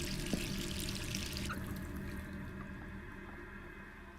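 A sink left running in the Resident Evil 3 video game gives a steady hiss of flowing water that fades somewhat partway through, with a faint drip or two, moderately quiet and without talk.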